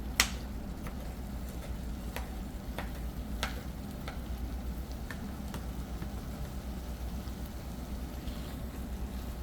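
An egg fries in a pan alongside sardines, giving a low, steady sizzle with occasional sharp pops and crackles, close and fairly quiet, with no talking.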